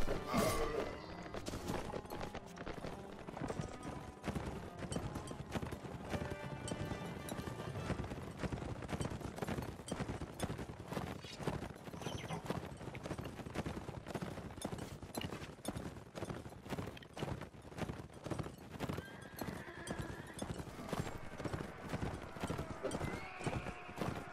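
Steady rhythmic horse hoofbeats in the video game Mount & Blade: Warband clip-clop along at a walking pace for a long stretch, close and even, with an occasional faint whinny.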